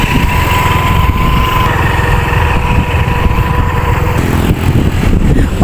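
A motor vehicle engine running steadily outside at night in a residential street, a continuous loud drone with a faint whine, close and unbroken with no talking.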